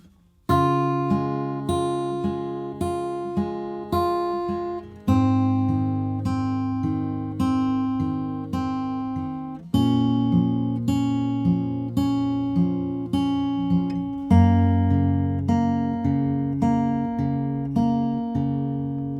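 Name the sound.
acoustic guitar fingerpicking main riff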